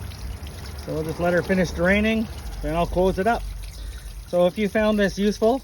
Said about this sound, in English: So we'll just let her finish draining, then I'll close it up.